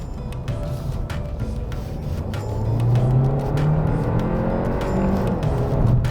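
A Kia K8 hybrid car accelerates while driving, its engine note rising into a steady, building rumble heard from inside the cabin, with no talk.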